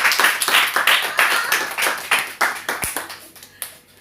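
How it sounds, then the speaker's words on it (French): A small church audience claps in a steady, fairly close patter of hands for a few seconds before it thins out and fades. "Applaudissez d'abord quand même pour vous d'abord."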